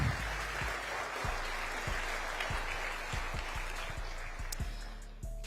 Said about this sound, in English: Again, a round of applause to everyone who stayed in this room